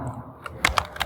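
Short burst of typing on a computer keyboard, a few distinct key clicks close up with quiet gaps between, no talking.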